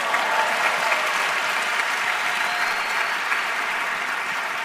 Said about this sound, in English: So I want to have a round of applause for Michael, please.